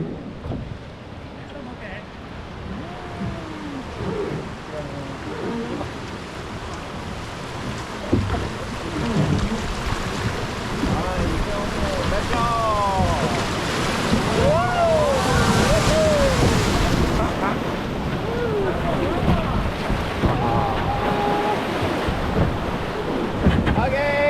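Rushing river rapids roar beneath a wooden tourist boat on the Hozugawa River near Kyoto, with steady loud wind buffeting and water noise throughout, overlaid by excited shouting and whooping from passengers.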